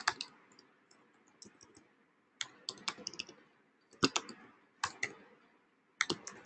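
Keys clack on a computer keyboard while a line of code is entered, coming in close, crisp clusters of quick taps separated by short pauses, with no voice.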